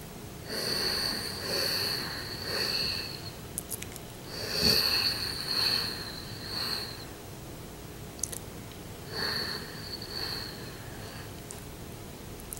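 A human voice imitates a forced whispering sound in several breathy, hissing bursts with a thin whistling edge, separated by short pauses.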